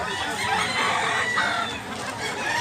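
Roosters and chickens on a farm in Mantalungon, Cebu cluck and crow steadily, with several birds calling over a dense, continuous farmyard din and no talk.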